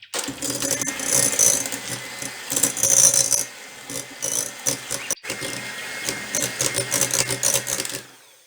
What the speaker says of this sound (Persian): این را میگیریم در ظرفمون و میکسر این را میزنیم.